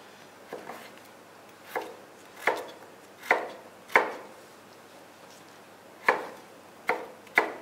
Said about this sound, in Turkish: Patatesleri küp küp doğrayarak başlıyorum.